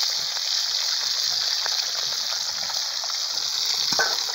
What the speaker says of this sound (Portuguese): vamos fritar essa bruta no disco aí